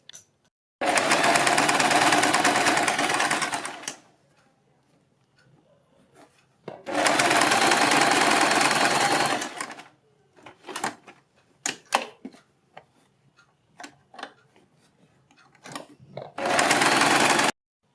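A sewing machine stitches a fabric neckline in three loud, steady whirring runs, with quieter clicks, taps and fabric handling in between.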